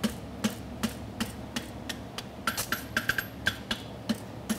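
Steady hammer blows ring on an anvil while a farrier shapes a Dutch rocker front horseshoe, drawing and flattening the heel; close, roughly evenly spaced strikes with quicker overlapping blows in the middle.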